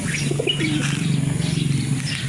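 Racing pigeons coo in soft, repeated low calls, close by, with light chirps and rustling around them, at Roxas Pier in Calapan.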